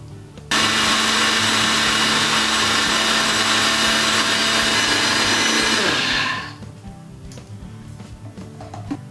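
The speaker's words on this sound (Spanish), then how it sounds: "Y batimos." A countertop blender whirs loudly, blending apple lassi ingredients. It starts abruptly, holds a steady high-pitched roar for about six seconds, then winds down to quiet clicks.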